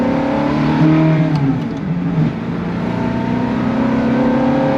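A Ferrari F430 engine drones loudly from inside the car while driving, with a steady tone that shifts in pitch as the revs change, no talking.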